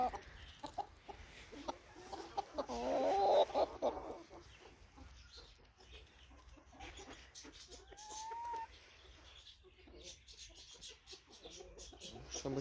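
Shabo bantam chickens cluck in their coop, a soft busy murmur of clucks and short calls from several birds close by, with a brief louder burst partway through and no talk.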